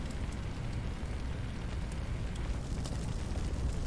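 Steady, dense crackling roar of a large industrial-complex fire in a firefighting simulator game, with a continuous noisy rush and scattered faint pops throughout.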